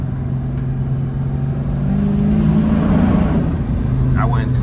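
A Dodge Charger R/T engine drones loudly and steadily from inside the car, swelling as it revs in a tunnel with a reverberant, enclosed tone.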